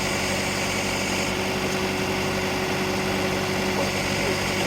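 A HydrosPlus Auger+ mounted on a tractor drills into the ground with a steady, loud engine drone and a constant hum that holds evenly throughout, alone with no talk.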